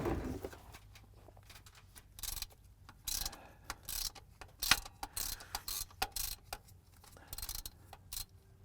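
Ratchet loosening the transfer case fill plug on a 2009 Ram 1500, with irregular bursts of close mechanical clicking spread across the clip at low overall volume.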